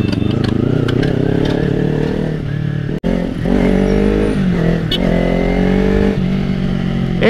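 A Kawasaki Ninja 300 motorcycle pulls hard through second and third gear in dense traffic, its engine note rising steadily, cutting out briefly at about three seconds, then climbing again, loud and close throughout.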